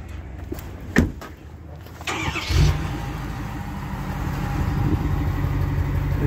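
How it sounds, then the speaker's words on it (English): A 2020 Ford F250 with a 6.7 Power Stroke turbo diesel starts with a few clicks and a quick crank, then settles into a steady, moderately loud diesel idle that builds slightly, heard up close with no voices. "This diesel is fairly quiet in the exhaust."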